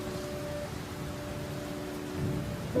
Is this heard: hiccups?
no